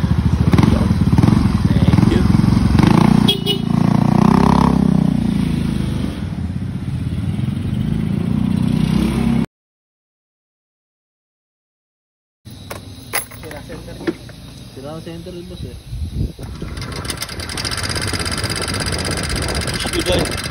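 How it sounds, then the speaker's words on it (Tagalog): A Yamaha Mio Soul i 125 motorcycle engine runs loud and rough with clattering, dropping out to near silence for a few seconds before rumbling back up; voices may be faintly present. "Napakaingay ng makina."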